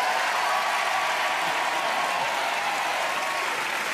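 A studio audience at a French kids' comedy show claps continuously and loudly for a few seconds, dense steady applause with no pauses.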